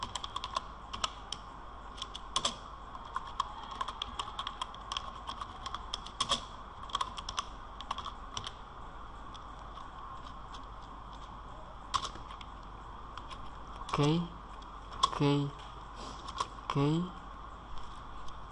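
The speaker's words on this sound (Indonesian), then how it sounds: "setelah itu kita ketikkan" Rapid clicking of keys typed on a computer keyboard during a school web-server setup tutorial, steady irregular taps throughout with a few louder strokes near the end, with a faint voice briefly in the background.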